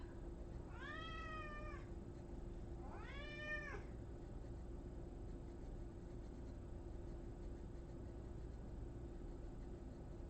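A house cat meows twice in a row, each call a clear rising-then-falling cry over a steady background hum, with no talking.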